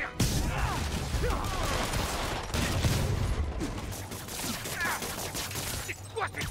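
Gunfire in the Spider-Man PS4 game, a dense continuous barrage of shots and crashes filling the whole stretch, loud and close, with the game's combat sounds mixed in.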